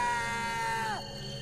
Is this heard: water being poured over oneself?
no